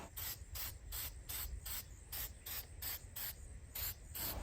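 Rust-Oleum fluorescent green spray paint hisses from an aerosol can onto a foam skeleton prop in about eleven short, evenly spaced bursts, close and fairly quiet, with no talking.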